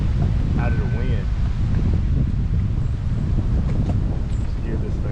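Gusty wind buffets the microphone on open water, a constant loud low rumble while fishing for crappie from a boat in shallow water, with brief faint chirps and a few soft knocks under it.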